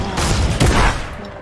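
Video game sniper fire bursts out as a loud, dense crackling volley lasting over a second, with a heavy thump partway through and no voices over it.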